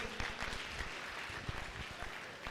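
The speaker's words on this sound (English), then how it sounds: "So can we give it up for Mr. Canning, please?" Applause from an audience at a live-broadcast fundraising event, a dense patter of many clapping hands sustained for a couple of seconds, moderately distant and fairly faint, with a faint voice briefly mixed in.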